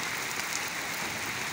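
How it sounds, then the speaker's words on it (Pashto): Steady, heavy downpour in a village, a thick unbroken wash of raindrops striking roofs and ground nearby, loud and even throughout. "ډېر تیز باران دی"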